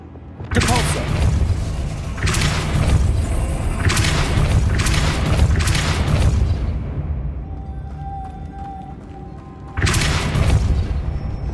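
A Depulso spell cast in the video game Hogwarts Legacy, heard as heavy booming, blast-like bursts that repeat at uneven intervals, with sustained rumbling between them and a brief gap before a final loud burst.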